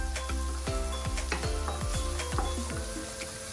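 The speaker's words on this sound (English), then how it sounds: "Just saute it well in the oil." Vegetables for vegetable noodles sauté in oil in a street-food pan, giving a steady close sizzle broken by repeated metallic scrapes and clanks of a utensil stirring against the pan, with no voice.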